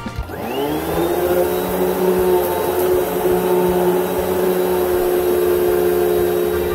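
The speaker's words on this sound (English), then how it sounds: "Install the dustbin and enjoy using again" A Hoover WindTunnel vacuum cleaner switches on and spins up, its whine rising quickly, then runs loud and steady up close with a constant motor hum and airflow rush throughout.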